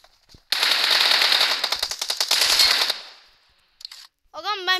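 Rapid automatic gunfire in a shooting video game rattles in one long, loud burst lasting over two seconds, followed by a brief pause, a short sound and a synthetic tonal game effect.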